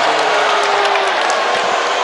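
Dense UFC arena crowd roaring loudly in disapproval at a late shot in a women's fight, a continuous wall of booing and shouting close up.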